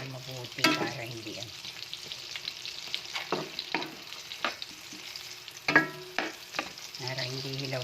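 Hotdogs fry in a pan, with steady close sizzling and scattered clinks and scrapes of a utensil stirring and turning them, and no talking.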